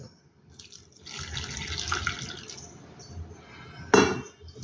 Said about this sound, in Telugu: ఇప్పుడు ఇందులో గోరువెచ్చటి నీళ్ళు, చల్లనీళ్ళు కాకుండా గోరువెచ్చటి నీళ్ళు.